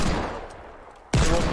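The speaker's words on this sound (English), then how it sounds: "Oh, someone's shooting us." A loud burst of heavy sniper gunfire in the video game Fortnite, a sudden sharp crack that follows a quieter stretch of game ambience.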